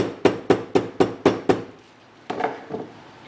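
A light hammer taps a metal ferrule onto brake line sheathing during a Ford 9-inch rear end install: six quick, evenly spaced sharp taps, a pause, then two softer taps, close and clear.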